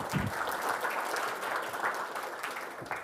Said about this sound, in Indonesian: Nah tepuk tangan untuk kalian semua.